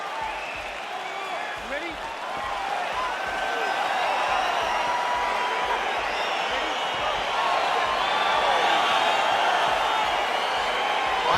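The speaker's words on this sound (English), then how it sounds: "crowd getting excited as this fight gets underway" An arena crowd in UFC 4 cheers and roars continuously at the start of a fight, with whoops rising through it and a commentator talking over the top.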